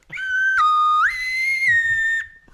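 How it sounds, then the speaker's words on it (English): A slide whistle blows a sustained tone that swoops down, then slides up and holds high before dropping again, loud and close, about two seconds of clean pitched whistling alone. "Good slide whistle to you."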